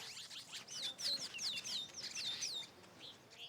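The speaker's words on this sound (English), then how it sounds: "Birds chirping" Repeated bright, high chirps from small birds in quick succession, fairly faint and close, tapering off near the end.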